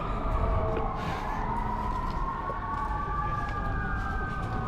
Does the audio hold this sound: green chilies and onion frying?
no